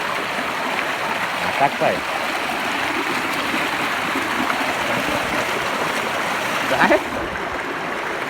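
A river in the Konkan countryside flows in a steady, broadband rush that fills the whole clip, with people talking over the water noise nearby.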